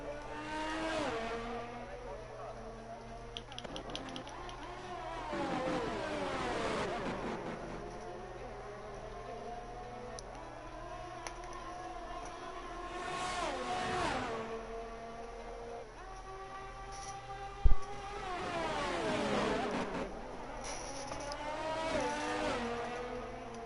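Formula 1 cars, a Ferrari or Alfa Romeo among them, race past at the Canadian circuit's hairpin, engines climbing and falling in repeated revving sweeps with a sharp brief knock in between, heard from a moderate distance.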